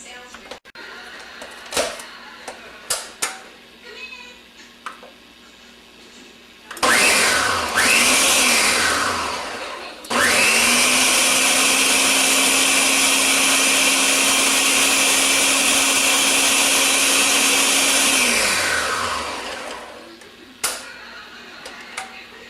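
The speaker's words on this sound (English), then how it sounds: "Now I'm going to grind that up a little bit first." Blender grinding packed greens for a green smoothie, a loud steady whir running about eight seconds after a short burst, close by, with brief talk and clatter around it.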